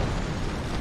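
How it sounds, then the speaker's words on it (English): Enemy bomber's bomb exploding on a tank in War Thunder, a loud, close, deep rumbling blast that fills the brief moment with heavy low-end boom. "drops bomb directly on us and kills us."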